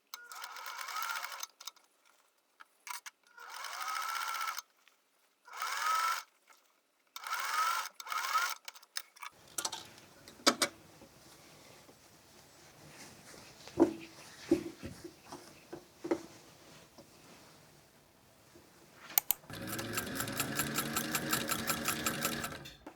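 Domestic sewing machine stitching a flat cap, running in several short bursts with pauses between, then a longer steady run near the end, close and clear with no talk.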